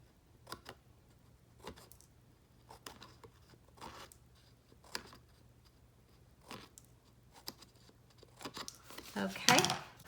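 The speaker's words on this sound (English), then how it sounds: "And then all you have to do is just cut it." Scissors cutting paper planner pages, a series of quiet, sharp snips spaced about a second apart, ending in a louder crinkling rustle, close up in a quiet room with soft speech.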